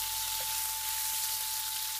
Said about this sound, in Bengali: আদা রসুন কুচি হালকা বাদামি রং হওয়া পর্যন্ত ভেজে নিব।